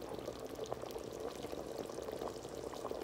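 Olive oil pours steadily into a cooking pot, a soft continuous liquid trickle and gurgle over low kitchen background, no talking.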